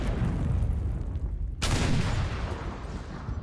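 Gunfire in the war game Foxhole, a dense rattle of rifle and machine-gun shots with one sharp loud crack partway through, then sustained firing.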